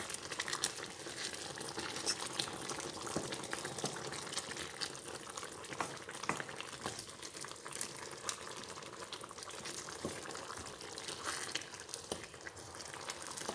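Aloo saag spinach being stirred in a pan, heard as a steady, soft sizzle and crackle with faint scraping and rustling throughout, close and even in level.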